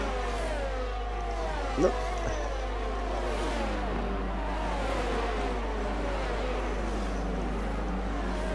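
Formula 1 cars racing in the F1 22 video game, with several engines whining and sweeping up and down in pitch at once, a steady mid-level roar behind a brief spoken word.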